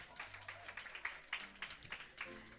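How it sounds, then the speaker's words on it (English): A crowd applauds with scattered, uneven clapping that rises in bursts, fairly close, with faint background noise and no clear voices. "Give them another round of applause."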